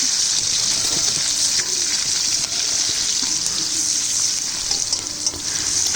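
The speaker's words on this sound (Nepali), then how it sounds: "अनि त्यही बफ फ्राई गरेकोमै मैले प्याज पनि त्यही फ्राई गरेँ।" Onion fries together with buffalo meat for chowmein, making a loud, close, crackling sizzle that holds steady throughout, with faint stirring underneath.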